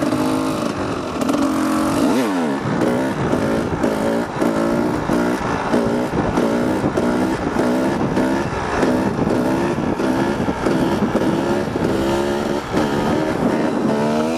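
An enduro motorcycle accelerating hard up a hill for a wheelie: a loud, close engine roars continuously, its pitch climbing and dropping repeatedly as it revs through the gears, with a brief dip near the start.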